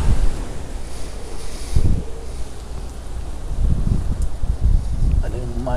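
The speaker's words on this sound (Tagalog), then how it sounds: "Malakas pa rin yung hangin." Strong wind from Hurricane Fiona in Bermuda roars across the microphone, with heavy buffeting gusts and loud low rumbling throughout, and someone talks intermittently over it.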